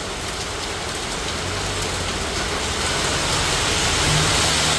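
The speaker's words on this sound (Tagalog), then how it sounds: "Kasi maulan dito sa harap." Heavy rain falls steadily in a dense, continuous hiss that grows slightly louder toward the end, with no voices.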